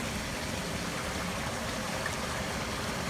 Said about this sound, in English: to give you a better idea of how much water is going through there right now